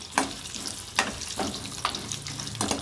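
Drumstick pieces stirred and sautéed in oil in a pan give a steady sizzle. Sharp scraping strokes of the spoon come at a regular rhythm, about five in three seconds, close and fairly loud with no talking.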